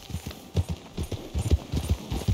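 Rhythmic horse hooves clip-clop at a steady walking gait in Red Dead Redemption 2, each footfall crisp and close in a repeating pattern.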